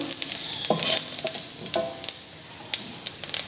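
Whole cumin seeds and dried red chillies sizzle in hot oil for cabbage ghanta, a steady close crackle with sharp pops and a few scraping stirs, no voices.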